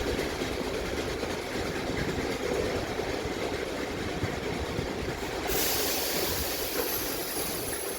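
Train 50812 pulling away from a station near Wigan in Greater Manchester, a steady loud rumble of rolling stock and engine noise running throughout with no talking.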